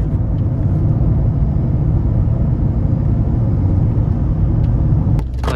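A Toyota Auris engine at a steady, modest driving pace after warming up, a loud continuous low rumble with road noise inside the car, briefly dipping near the end.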